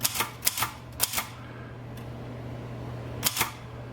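An old typewriter with worn, washed-out ink clacks in short bursts of keystrokes, three quick pairs and then a later pair, close and crisp over a faint steady hum.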